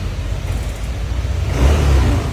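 A Yamaha Aerox scooter engine runs close by with a low, rough hum, then revs up louder near the end. The scooter is one that sputters when it rains.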